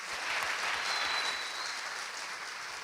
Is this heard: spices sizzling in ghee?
no